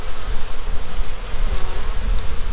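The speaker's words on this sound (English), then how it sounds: "This box is packed with bees" A loud, continuous buzz of many bees packed in a hive box, close up, a thick droning hum that never lets up.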